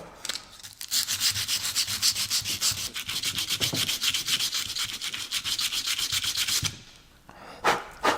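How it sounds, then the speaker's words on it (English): A rusty Jaguar S-Type differential is hand-sanded with 180 grit paper on a rubber block: quick, rhythmic rasping strokes run steadily and close for about seven seconds, then pause before a couple of final swipes. "I picked up those rubber blocks. That's 180 grit sandpaper."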